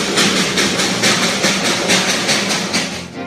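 The Darjeeling toy train rumbles steadily along the narrow-gauge rails with a rhythmic clatter of wheels over track joints, fairly close and continuous.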